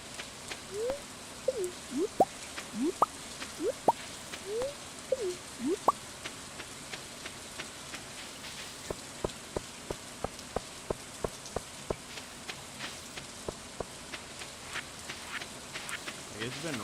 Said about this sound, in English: It's been raining so much